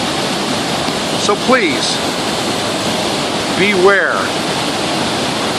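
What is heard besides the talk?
Ellison Creek Falls waterfall in flood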